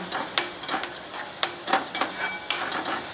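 Onion-tomato gravy with pav bhaji masala roasting in a pan, heard as a soft steady sizzle broken by a few light spoon-stirring taps and scrapes against the pan, close and fairly quiet.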